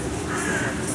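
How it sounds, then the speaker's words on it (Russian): A crow caws loudly and harshly nearby on the Yalta seafront in Crimea, short rasping calls over steady outdoor background noise. "Ворона, видите, как каркает громко."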